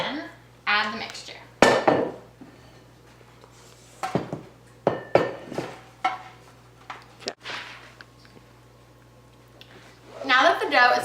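Cookie bar dough being pressed and spread into a baking pan, with a series of close scraping, clinking utensil-on-pan sounds in bursts, and a steady low hum underneath.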